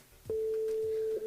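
A steady, single-pitched telephone ringing tone starts abruptly and holds for about a second with a tiny dip near the end, heard on a live radio show while calling a listener's mobile phone.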